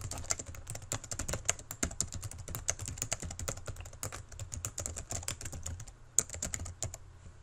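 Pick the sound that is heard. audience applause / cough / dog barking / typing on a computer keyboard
typing on a computer keyboard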